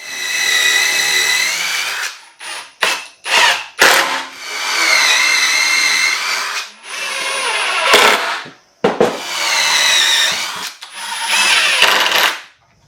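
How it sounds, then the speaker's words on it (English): A power drill bores holes into black walnut for a live-edge crossbow wall mount, several loud whining bursts of a few seconds each, separated by short pauses and clicks. "we're going to drill the holes in the back of this"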